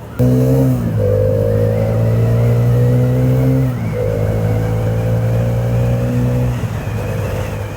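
A 2024 Hero Karizma XMR motorcycle engine drones and revs through gear changes, pitch climbing, dipping at each shift, then climbing again, loud and close.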